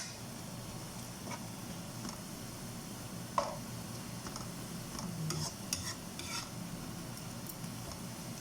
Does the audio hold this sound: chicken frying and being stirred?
yes